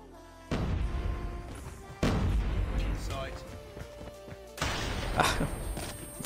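Three loud booming sniper rifle gunshots in a video game, about two seconds apart, each ringing out with a long tail, while people talk over them.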